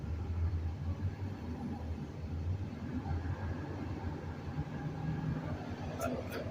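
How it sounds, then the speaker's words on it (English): Idling Ford 4.6 V8 from a 1997–98 vehicle with a new PCV valve hose, its steady low rumble and faint valve-train ticking running continuously and fairly close, with a loud fan mixed in. "Don't worry about the valve train sound."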